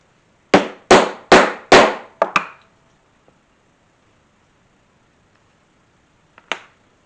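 A hole punch is struck into scrap leather for a keyring with four sharp, evenly spaced close knocks, then two quicker lighter taps, silence, and one more pair of taps.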